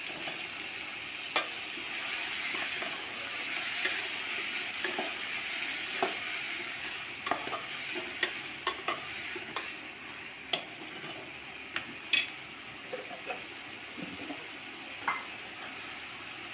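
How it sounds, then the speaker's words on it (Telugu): Tomato and potato pieces sizzle in a pan for an aloo-tomato curry, a soft steady frying hiss broken by irregular scraping and clinking stirs of a spoon against the pan. "ఆ టమోటా ముక్కల్ని కూడా ఇందులో యాడ్ చేసుకోవాలండి. అలా యాడ్ చేసుకున్న తర్వాత ఇవి మొత్తం మళ్ళీ 2 మినిట్స్ వరకు అలా మగ్గనిస్తూ ఉండాలండి."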